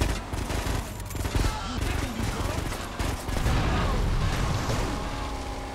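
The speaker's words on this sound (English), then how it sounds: "Double explosion again." A rapid burst of gunfire and booming blasts rolls through a chaotic firefight in GTA: Vice City Stories, loud and dense, with a brief gap before the racket resumes.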